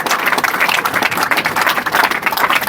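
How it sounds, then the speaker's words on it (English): A classroom of students applauds themselves, with dense, steady clapping that fills the room loudly and continuously, with no voices over it. "Clap for yourself first."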